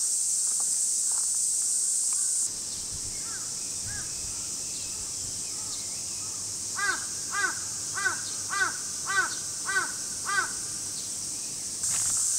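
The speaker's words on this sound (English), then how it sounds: "And of course the crows get in on the action as well." Crows in Japan caw repeatedly in a regular series of harsh calls, starting partway through, over a background of buzzing cicadas that fades in and out.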